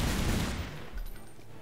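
Gunfire in Tomb Raider Anniversary, in the Palace of Midas level in Greece: a loud burst of shots at the start quickly tails off into a few fainter echoing cracks.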